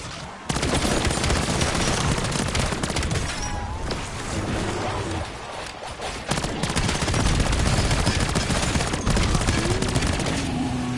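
Dense, sustained automatic gunfire from a legendary weapon in the Black Ops 7 video game, loud and continuous rapid bursts with brief gaps, filling the whole stretch.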